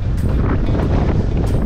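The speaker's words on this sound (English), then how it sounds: "Oh, windy." Strong wind buffets the microphone in a steady, loud roar with no other sounds, during a 100-kilometre trail ultramarathon.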